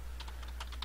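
Fast, hard keystrokes pounded out on a computer keyboard while gaming, a quick cluster of clicky taps crammed into under a second over a low steady hum.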